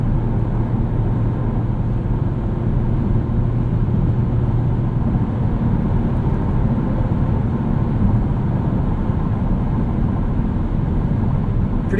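A steady, loud low rumble of road and engine noise fills the cabin of a 2018 Kia Stinger GT RWD cruising on the highway at night, unbroken and even throughout with no talking.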